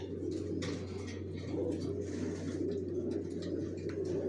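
Racer pigeons coo softly and repeatedly in low, rolling calls close by, with a steady hum underneath.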